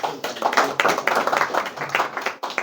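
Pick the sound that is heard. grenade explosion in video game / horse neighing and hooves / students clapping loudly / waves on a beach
students clapping loudly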